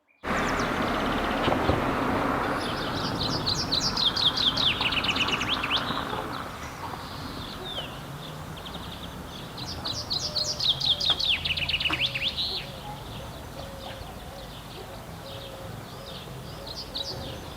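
Chaffinch song on Lesvos, two clear descending trilled phrases ending in a flourish, fairly near and loud, over steady outdoor background noise with a few fainter calls between.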